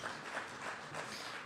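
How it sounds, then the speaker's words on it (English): Brief applause from an outdoor crowd at a public event honoring Department of Public Works and Transportation employees, in front of a salt pile; steady, moderately faint clapping with no talk. "Give them a big round of applause"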